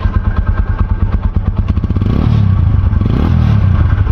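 A motorcycle engine idles with a rough, rapid putter, then the throttle opens and the exhaust roars loudly and steadily, close by.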